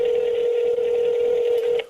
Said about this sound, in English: it is ringing, so we're going to wait for an answer